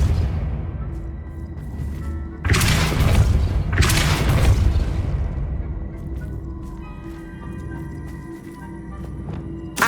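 The Depulso spell in Hogwarts Legacy strikes with two heavy, booming blasts about a second apart, each a loud, close rumbling burst that decays into a low lingering hum.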